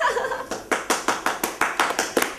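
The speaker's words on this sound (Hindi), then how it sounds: "तालियां भाई, तालियां" A small group claps in a quick, slightly uneven rhythm, about a dozen sharp hand claps spread over a couple of seconds, fairly close and clear, with a hint of voices underneath.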